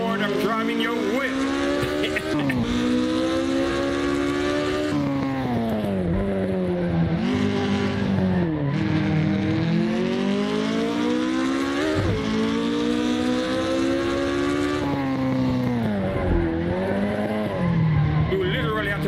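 American muscle car in Assetto Corsa, its loud engine revving hard through repeated gear shifts with rising and dropping pitch, tires squealing, while someone talks over it.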